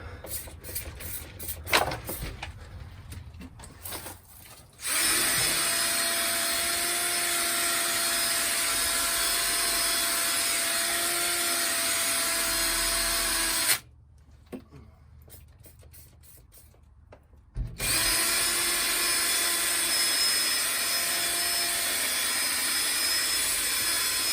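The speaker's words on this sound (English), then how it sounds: "I'm just using this 4-inch flat brush here, and watch what happens." A power drill spins a Lodi 4-inch flat brush, scrubbing hard water stains with a steady, loud whirring hum that starts and stops in bursts, with a short pause in the middle.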